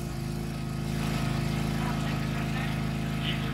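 Husqvarna zero-turn lawn mower with hydrostatic drive, engine revved up to a steady, loud, close-up drone with constant vibration and no voices.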